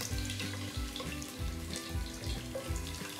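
Chopped garlic frying in a pan for veg hakka noodles gives a steady, close hiss and crackle, with no talk.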